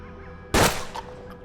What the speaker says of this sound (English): The gunfire woke up Phineas, your other freak.